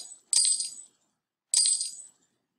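Two bright coin-drop jingles from the MovieStarPlanet video game, each a crisp metallic chime burst about a second apart, clean and alone against silence.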